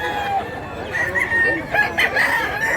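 Loud rooster crowing, several calls overlapping nearby, over a busy background of clucking and crowd murmur at a chicken market in Mantalungon, Barili, Cebu.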